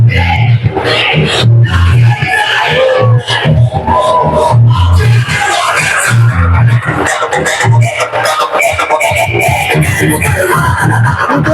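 Party workers cheering a BJP election victory at Shivtirth in Karad, a loud dense crowd of shouts and whoops with rhythmic drumming and voices filling the whole stretch.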